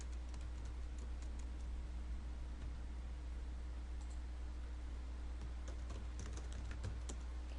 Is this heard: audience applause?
no